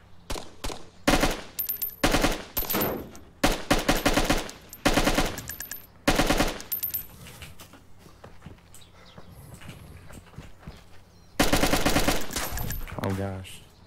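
Automatic gunfire in a shooter video game, loud close bursts repeating in rapid rhythmic volleys separated by short pauses, with faint talk between them.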